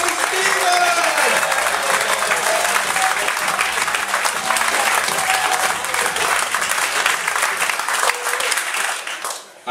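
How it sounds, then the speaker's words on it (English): A comedy club audience applauds a comedian walking on stage, loud sustained clapping with some crowd noise that holds steady for nearly ten seconds and then cuts off. "Round of applause again, please, ladies and gentlemen."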